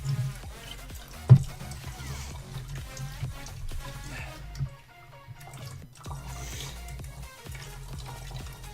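Coolant draining out of a PC water-cooling loop in a Thermaltake The Tower 900 case, with trickling and dripping water, splashy drips and a few sharper plinks, close and steady.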